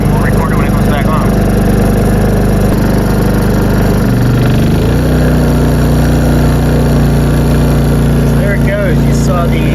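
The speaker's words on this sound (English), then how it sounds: "You saw you heard the compressor kick on." An air conditioner compressor fitted with a soft starter kicks on midway, its steady mechanical hum settling into a lower running drone, with people talking over it.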